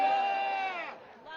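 An outdoor town crowd cheers and whoops, a loud sustained chorus of raised voices that tapers off, then a brief second swell.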